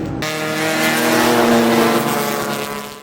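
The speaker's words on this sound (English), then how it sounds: "Actually, the quickest car on track at the moment" Race car engine roaring loudly on a circuit during a 24-hour endurance race, a sustained close, strained drone that swells and holds before easing off at the end.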